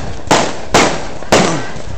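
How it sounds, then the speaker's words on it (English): Fireworks bursting at close range, three sharp loud bangs spaced under a second apart, each with a brief crackling tail. "we so close to the fireworks, man."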